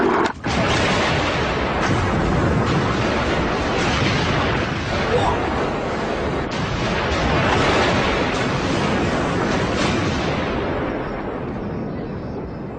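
An explosive charge set off to plough a farm field bursts with a loud blast, then a long roaring rumble of blown earth and debris that slowly fades over several seconds.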